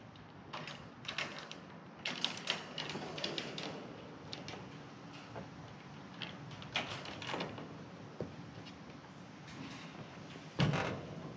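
Quiet metallic clicks, rattles and creaks as the two side clips of a goat shed door are unlatched and the door is worked, irregular and close, with one louder clunk near the end.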